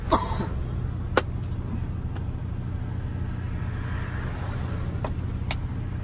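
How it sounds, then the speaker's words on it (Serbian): A person who has just laughed lets out a few sharp, brief coughs, spaced out over a steady low rumble of background noise. "odmah mi se kašli"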